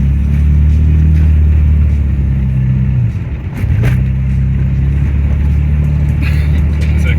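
A car engine drones loudly and steadily while driving, its pitch holding and shifting between gears, with a brief dip in the middle before climbing again; no talking.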